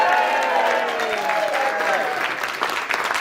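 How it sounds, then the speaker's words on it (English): Audience applause at a lifeboat debate event fills the room, a dense, steady clapping from a sizeable crowd that holds strong throughout with little fading. "Come on, huge round of applause"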